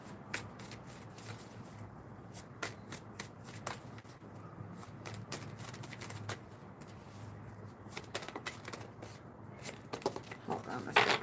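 Tarot cards are shuffled by hand in a long run of soft riffling and sharp slapping flicks, close and fairly quiet, with brief pauses and a faster flurry near the end.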